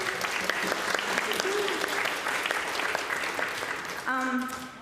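An audience applauds in a hall, a sustained, even round of clapping throughout with a voice or tone briefly audible near the end.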